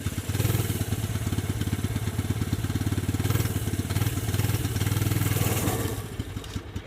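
Snowmobile engine running steadily just after a choke start, a loud, continuous low throbbing with a rapid pulsing beat that holds for about six seconds before easing slightly near the end.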